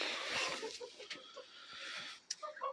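Brahma chickens cluck softly while eating amid a busy background of scratching and bird chatter, with a few sharper pecks and calls near the end.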